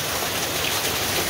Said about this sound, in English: It's been raining most of the day, all day, and then pouring just started now again.